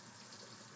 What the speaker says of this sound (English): Oh, I didn't realize I left the water running.